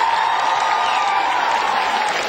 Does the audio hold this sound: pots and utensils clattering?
no